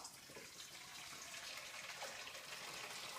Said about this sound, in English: I'm going to pour it into the bowl.